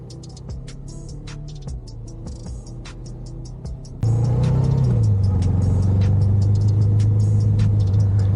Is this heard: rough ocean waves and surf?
no